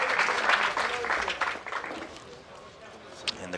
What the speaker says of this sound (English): And the crowd trying to pump him up a little bit.